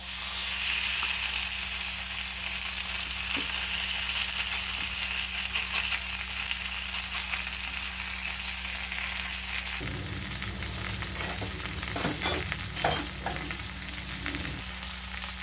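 Fish frying in a pan gives a steady, close hiss of hot oil, with a shift partway through to livelier crackling and a few spatula scrapes and taps.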